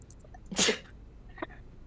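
A single sharp sneeze bursts out near the start, followed by a brief, quieter vocal sound in an otherwise quiet room.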